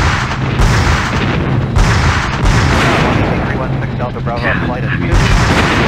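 Combat ships in the helicopter shooter game Hell Copter firing cannons and artillery produce a dense, continuous barrage of booming shots and blasts, loud and close, layered over steady low rumble with a few sharper bursts.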